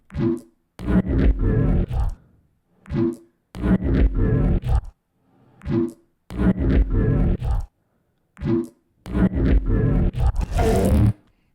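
Gritty, growling neuro bass synth phrases trade back and forth, a short burst answered by a longer one, repeating in a punchy call-and-response pattern with no talking.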